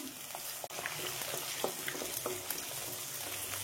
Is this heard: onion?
yes